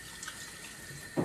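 Water runs faintly and steadily from a tap during handwashing at a kitchen sink, ending with a brief louder splash.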